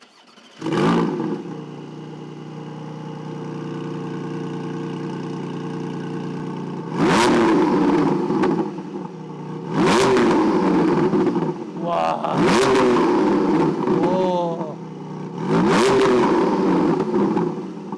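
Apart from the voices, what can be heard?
flat-six sports car exhaust revving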